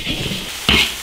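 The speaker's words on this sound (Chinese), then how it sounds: "就这样把猪灰炒香" Cured pig lung stir-fries in a large iron wok with a crackling sizzle, then a sharp spatula scrape against the metal sounds close and loud near the end.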